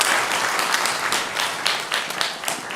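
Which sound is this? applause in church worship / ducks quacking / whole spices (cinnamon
applause in church worship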